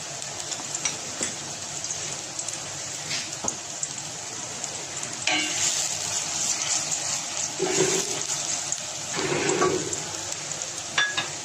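Onions and garlic paste sizzle in a pan while cooking murgh chanay, giving a continuous soft crackling hiss that is fairly faint, with a few louder spattering bursts toward the middle and end.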